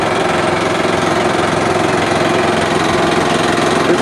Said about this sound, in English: This machine is used to push the raw material over to that Volvo excavator right there, and then it's loaded into this tub grinder.